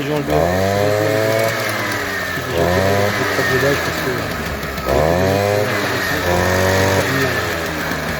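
A moped engine starts and revs repeatedly, close and loud, with rising and falling whining sweeps in several bursts over a rough idle.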